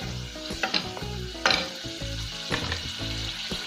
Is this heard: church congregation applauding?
no